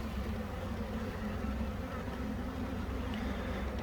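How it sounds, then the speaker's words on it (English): Honeybee foragers buzz around a freshly caught swarm in a box, a dense, constant droning hum outdoors with no pauses. "I've got a bunch of foragers flying around"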